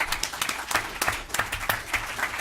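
Scattered audience clapping at a city council meeting, a modest number of hands producing irregular, fairly close claps for a couple of seconds with no talk over it.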